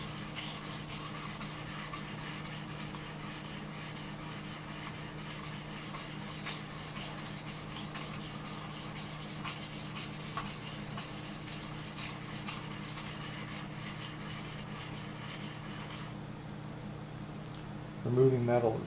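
Steady rhythmic rasping of a knife blade stroked back and forth across a Shapton 1K whetstone, continuous and close, with a brief louder scrape near the end.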